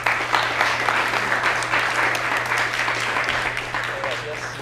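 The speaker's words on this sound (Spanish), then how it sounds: "un aplauso" Applause from an audience after a talk on television series: continuous moderate clapping throughout, with a steady low electrical hum underneath and faint voices at the close.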